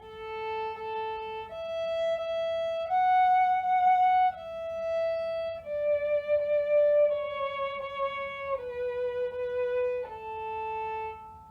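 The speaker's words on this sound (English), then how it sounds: "the first song that I learned how to play was Twinkle, Twinkle, Twinkle, Little Star" A string instrument, likely a violin, plays the Twinkle Twinkle Little Star melody in sustained, clearly pitched notes, close and alone with no talking.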